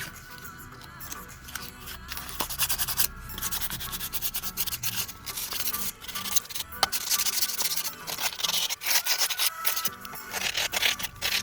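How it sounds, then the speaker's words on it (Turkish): Steady scratchy rubbing of sandpaper against the corroded metal of a door handle, continuous and close, with uneven strokes for the whole stretch. "Kapı kolumuzun korozyona uğramış bölgelerini zımpara ile temizleyeceğiz."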